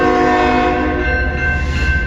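A CN northbound freight train sounds its horn in one loud, sustained chord close by, over the low rumble of the passing train.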